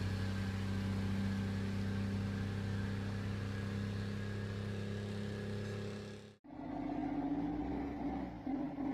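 Pacific P-16 heavy truck with a Detroit Diesel 12V71 engine pulling a Tiger Cat 855, its loud steady diesel drone holding for several seconds before cutting sharply and resuming rougher.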